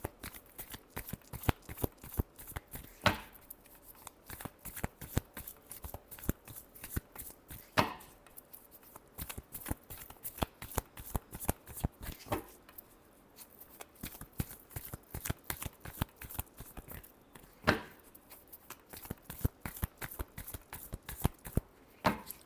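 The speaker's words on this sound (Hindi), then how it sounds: "last shuffle" Tarot cards are shuffled by hand, close and fairly quiet, a long run of crisp rapid riffles and taps with a few sharper snaps and uneven rhythm throughout.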